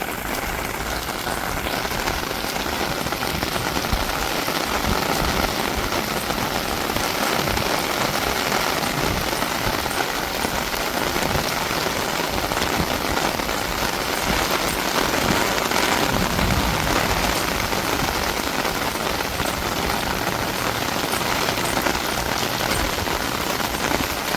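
Heavy rain pours down outdoors, a dense and constant hiss of drops striking surfaces that stays loud and unbroken throughout, with no voices.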